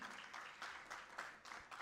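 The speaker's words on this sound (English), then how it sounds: "A round of applause, ladies and gentlemen" An audience at a gala dinner gives a faint, distant round of applause, a soft, continuous patter of many hands with slight swells.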